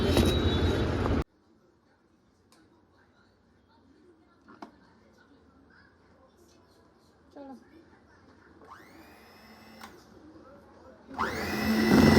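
A kitchen blender whirs loudly as it churns homemade cream (malai) into butter, heard in short bursts at the start and end with quieter kitchen sounds between.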